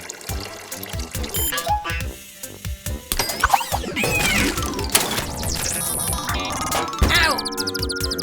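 Water glugs and trickles into a cartoon truck's radiator amid clinks and dings, the pouring running several seconds with busy animated sound effects around it.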